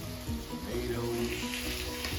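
Onions and tomatoes sear in a hot pan for a fire-roasted ranchero sauce, giving a steady, even sizzle close by with no voices.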